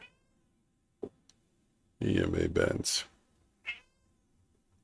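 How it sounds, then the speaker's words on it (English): A house cat meows several times, a short call first, then a louder drawn-out yowling meow and a brief final one, mixed with a man's speech nearby. "keep meowing until you're blue in the face"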